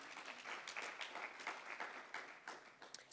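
Steady applause from an audience after a keynote speech, many hands clapping at once, a dense crackle that holds for a few seconds at moderate distance.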